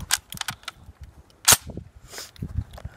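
A big-bore gun fired once: a single loud, sharp blast cuts through the middle of a short stretch of handling noise and rustle.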